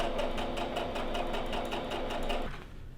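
A home sewing machine stitches an elastic casing on a tiered ruffle skirt, running as a close, steady rapid whir for over two seconds before slowing and stopping.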